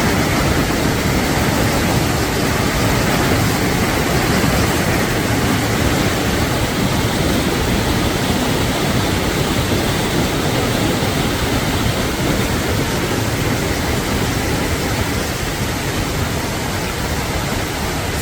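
Steady, loud rush of river water pouring out from under a bridge at a river head, a dense broadband roar that holds constant and close throughout with no voices.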